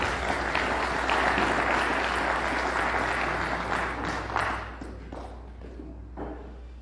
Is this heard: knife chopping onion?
no